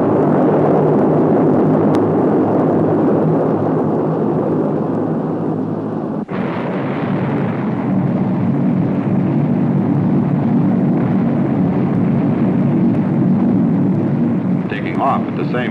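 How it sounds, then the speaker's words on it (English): A C-130 transport aircraft takes off with the added thrust of eight rocket motors, a loud continuous roar that stays heavy throughout and gains a harsher rushing edge partway through. "the C-130 used the additional thrust of 8 rocket motors to break ground in 650 feet"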